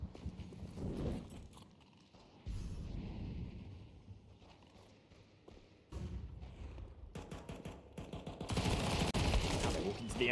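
MP9 submachine gun fire in a playoff match of an esports video game tournament: rapid bursts and thudding shots mixed with dense game noise, loud and up front, changing sharply as the action cuts.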